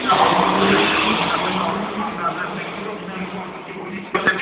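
Rally cars of Krzysztof Hołowczyc and Stéphane Peterhansel launching at the start of a Warsaw Dakar Spirit exhibition race, a loud, sustained engine roar with tire noise filling the whole stretch, fading slightly before a sharp knock near the end.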